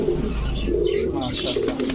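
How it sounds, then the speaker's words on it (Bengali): Sakhi Teddy pigeon chicks, a young pair, cooing in a low continuous murmur close by, soft and steady throughout. "এটা হচ্ছে সাকি টেডির জোড়া বাচ্চা"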